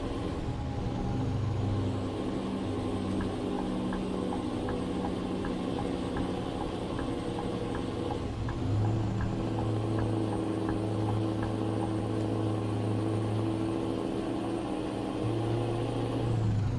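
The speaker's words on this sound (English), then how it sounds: "big old Scania rev out and crackle for us" A Scania truck engine in Euro Truck Simulator 2 rumbles at a steady, low idle, a continuous droning hum with a faint repeating tick above it and a slight swell in pitch partway through, heard alone without talk.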